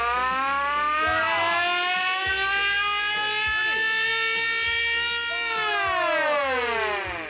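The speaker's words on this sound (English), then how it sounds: "the lights went on, and the siren went off too" A bicycle-generator-powered siren wails loudly and steadily, its pitch rising and falling in sweeping cycles as the rider keeps pedaling, with a faint murmur of voices beneath.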